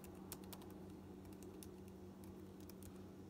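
Rapid, soft clicking of a computer keyboard as a command is typed into a command-line prompt, quick irregular keystrokes in bursts over a faint steady hum, with no voices.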